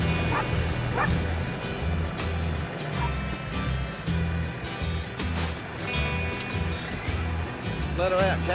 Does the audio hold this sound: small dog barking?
yes